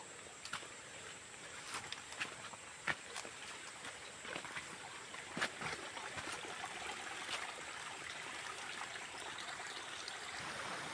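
A forest stream trickles and burbles in a rainy-season woodland, a soft continuous wash of running water with scattered small splashes and clicks, faint and fairly distant.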